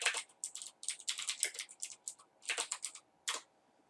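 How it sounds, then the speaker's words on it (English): Typing on a computer keyboard to enter a web search, heard as quick bursts of close, crisp key clicks in irregular clusters with short pauses, ending in a final tap and then quiet. "go into the search bar and type in Sublime text."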